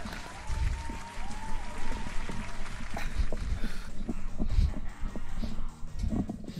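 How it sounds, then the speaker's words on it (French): Applause sound effect on a live stream: a continuous patter of clapping crowd applause filling the clip at moderate volume, with occasional low thumps mixed in. "On applaudit Nassim dans le chat, s'il vous plaît."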